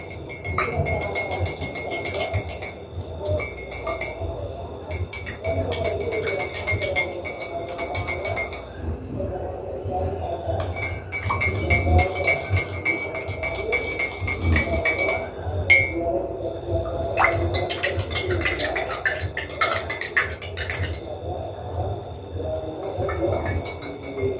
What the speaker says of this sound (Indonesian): Sesudah betadin kita berikan, kita aduk dulu.